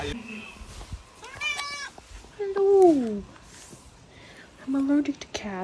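A friendly cat meows several times in rising and falling calls, close by, between people talking softly in the Dominican Republic.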